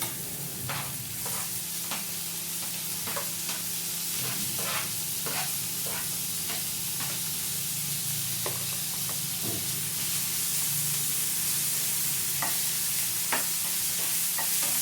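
Green chillies sizzle in hot oil in a pan for Mumbai-style masala dosa filling, a steady frying hiss broken by repeated sharp scrapes and taps of a spoon stirring, close and continuous.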